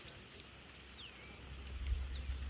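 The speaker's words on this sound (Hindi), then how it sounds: "ऐसे ही करते हैं यहाँ पे, पाइप के थ्रू फिरकी लगा के, फिरकी बोलते हैं इसको" A field sprinkler spins on a pipe outdoors and sprays a steady, rain-like patter of water, with a low rumble building toward the end.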